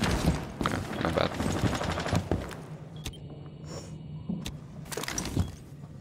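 Rapid gunfire bursts in Rainbow Six Siege crack and clatter against metal bars, with sharp repeated shots, shattering debris and a few isolated single reports in between.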